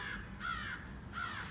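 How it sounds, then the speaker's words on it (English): A crow perched nearby caws three times in a rough, even rhythm, each harsh call loud and clear over faint outdoor background noise. "Where the hell is that damn crow?"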